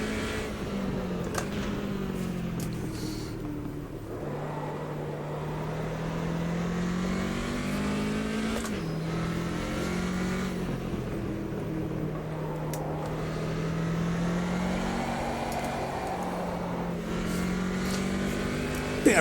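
Race car engine in the Automobilista 2 sim, a steady loud drone whose pitch rises and falls as the throttle is worked through corners on cold tyres, running continuously with no talk.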